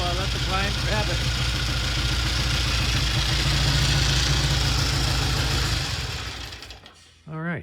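A Triumph 350cc 3TA motorcycle engine idles with a steady, even mechanical chatter and low thrum for several seconds before fading, while a person talks over the start and again at the end.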